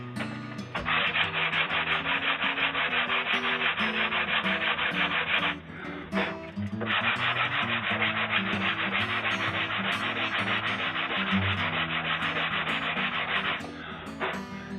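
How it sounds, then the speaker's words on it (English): Steady, close sandpaper rubbing on a wooden guitar soundhole rosette, sanding off glue and paper, in two long back-and-forth stretches, separated by a short pause. "You're sanding off the glue."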